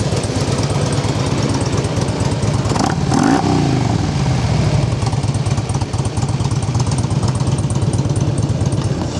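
A Harley Davidson Ultra Classic FLHTCUI motorcycle with a Twin Cam 88 engine and 5-speed gearbox runs steadily nearby, its rhythmic, loping exhaust pulses continuing with a brief blip in the middle.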